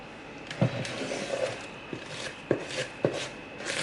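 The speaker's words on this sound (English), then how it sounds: "So we're just stirring away." A snack batter of vegetable oil, one egg, milk and butter being stirred in a bowl, with several irregular sharp spoon knocks over a soft, steady scraping background.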